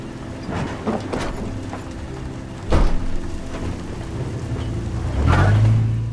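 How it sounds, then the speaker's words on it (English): Rain and thunder in the video game Life is Strange: steady rainfall hisses throughout, broken by a sharp crack near the middle and a deeper, louder rolling rumble toward the end. "Quite a different mood here with the rain."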